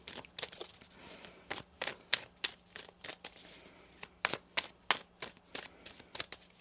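Quiet, close shuffling of cards with rapid, irregular taps and flicks, like cards being cut and slid against each other, with no voices.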